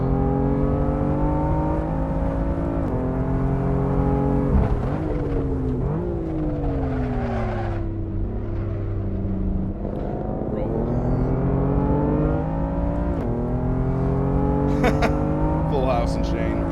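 A BMW M4 race car in Assetto Corsa, lapping Donington Park, sustains a loud engine drone that rises and falls through repeated acceleration pulls and gear shifts, with a brief tire squeal, while someone talks over it.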